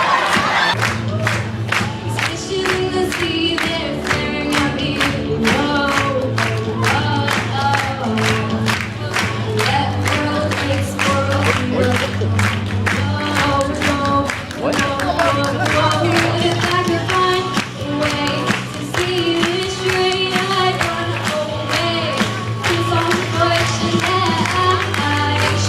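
A dense crowd cheers, shouts and claps continuously at a Rubik's Cube competition, loud and close, with sustained roaring voices and steady applause throughout.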